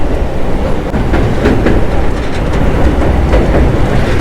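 Diva-Roha MEMU train travelling in heavy rain, a loud, continuous rumble of wheels on track with rhythmic clickety-clack and rattling carriage noise heard from inside, no voices.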